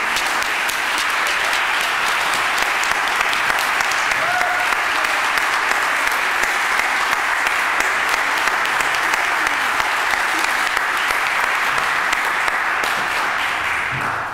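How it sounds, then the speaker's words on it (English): A church congregation claps in long, even, sustained applause at a Sunday service, a thick steady patter that holds for the whole stretch without pause. "we should really give them another big, big clapping"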